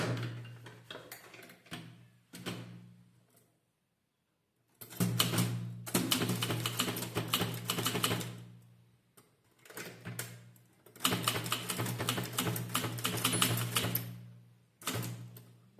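A mechanical typewriter is used to type a Tamil government circular, with rapid bursts of clacking keystrokes separated by short pauses, close and fairly loud.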